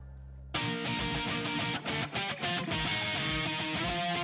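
An electric guitar played through a Pod Farm screamer pedal and a Marshall amp model with some EQ starts suddenly after a brief pause and rings out as a dense, distorted riff with a few quick chopped breaks, loud and alone.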